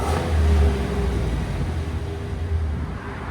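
A 2022 Chevy Silverado 2500 HD with the 6.6L V8 and stock exhaust is revved, giving a deep, loud rumble that swells briefly and then holds a steady, throaty idle-like drone.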